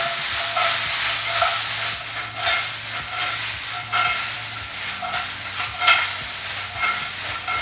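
Salsa being stirred into chilaquiles in a pan, with a steady wet scraping and sloshing and a soft sizzle underneath, repeating in a loose rhythm close by without any talking.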